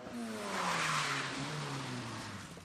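A car performing stunt driving, its engine revving loudly and tires squealing in a continuous smear of sound with a falling harmonic whine, close and steady for a few seconds.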